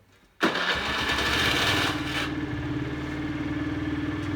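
A Honda Dio AF62 scooter engine catches abruptly after a moment of quiet, revs briefly, then settles into a close, steady idle with a pulsing, puttering rhythm.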